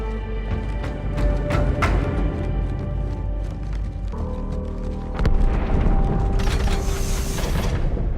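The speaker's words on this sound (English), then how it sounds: "That explosion came from inside the Athens, same as the Malta." A heavy explosion goes off inside the starship Athens in Halo 2, layered over continuous deep rumbling and mechanical game noise, with a sharper surge of blast and crackle toward the end.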